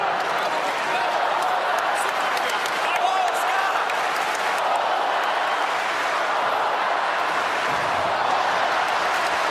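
A tennis crowd at Ken Rosewall Arena in Sydney, at the United Cup final between Poland and the USA, roars and cheers in a dense, continuous wash, with commentators talking over it.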